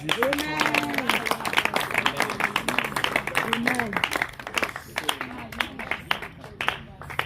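A church congregation at a French-language revival service claps and cheers, a dense, steady wash of hand claps running under a preacher's voice and shouts throughout.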